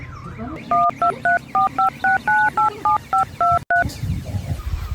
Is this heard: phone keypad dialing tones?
yes